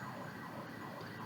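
An emergency vehicle siren sounds out on the street, a steady, fairly distant wail that fills the whole clip under general outdoor noise, with no talking.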